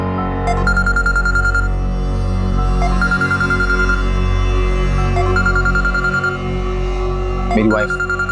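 A mobile phone ringtone plays indoors, a loud, continuous electronic melody with repeating tonal phrases filling the whole stretch, close to the listener, with no talking.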